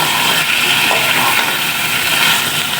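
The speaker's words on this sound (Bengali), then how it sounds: "এখন আমি এটা ভালো করে কষাই নেব।" Chicken fries in oil with ground spice paste for chicken kosha, giving a loud, close, continuous hiss and sizzle that stays steady throughout with no voices.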